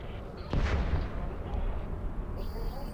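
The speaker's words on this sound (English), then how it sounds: "That's like a really pretty explosion" An explosion in a space asteroid-mining video game gives a sharp, loud boom that fades into a rumbling tail, with a faint electronic tone near the end.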